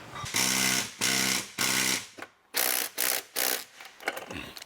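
Impact wrench on hydro handbrake bolts in a car: several loud, short buzzing rattles in quick succession, close by.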